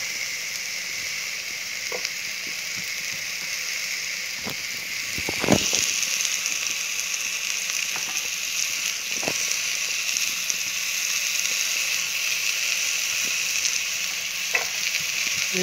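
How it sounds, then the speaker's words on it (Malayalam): Rice sizzling steadily as it fries in a pan for Mexican rice, a continuous hiss broken by occasional scrapes and clinks of stirring, with no talk. "റൈസ് ഇട്ടിട്ട് നന്നായിട്ട് ഇളക്കിയിട്ട്"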